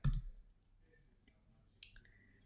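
A computer mouse clicks twice while setting a slide background in presentation software, two crisp, close clicks separated by nearly two seconds of quiet room tone.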